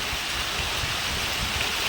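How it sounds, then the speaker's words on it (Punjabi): Heavy monsoon rain pours down in a dense, even, rushing hiss that fills the space without any pause. "ਝੜੀ ਨਹੀਂ ਲੱਗੀ ਜਾਣ ਕੇ ਖੁੱਲ ਕੇ ਮੀਂਹ ਪੈਂਦਾ ਪਿਆ"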